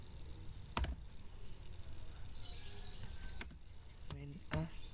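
Linux commands are typed in a terminal on a computer keyboard: a few sparse, faint keystroke clicks in a quiet room, with some soft speech in the background.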